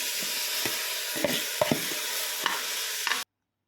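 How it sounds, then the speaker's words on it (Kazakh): A steady frying hiss with scattered sharp clicks and light scrapes as washed rice hits a hot pot and is stirred. "Енді қазанымызды қыздырып, жуып алған күрішімізді саламыз."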